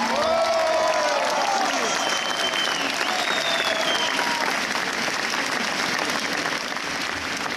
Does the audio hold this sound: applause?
yes